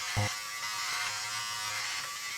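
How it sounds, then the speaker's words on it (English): A plug-in electric razor buzzing steadily while shaving a head, a loud close continuous drone that starts with a short click and thump and holds without pause, no voices. "It's literally just having a razor, have it plugged in."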